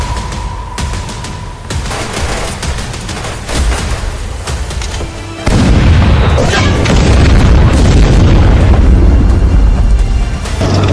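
Cannon and artillery fire in a war drama: booming blasts and rapid crackling bursts stacked densely, growing louder and heavier midway through, with no talking over the barrage.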